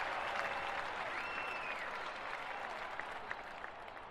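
A stadium crowd in the London 2012 game applauds a serve, with a broad wash of clapping at steady strength that slowly fades toward the end.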